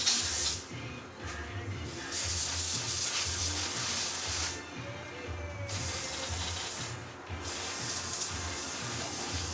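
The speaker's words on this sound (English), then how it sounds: "as soon as you're done hitting it with the carburetor cleaner" Carburetor cleaner sprayed onto a very dirty part, giving a loud, close, steady aerosol hiss in several long bursts separated by short pauses.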